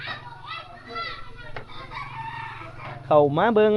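Rooster crowing loudly and close on a small farm where ducks and chickens are kept, its long rising call ending the stretch after a run of clucking and other fowl calls over a steady low hum.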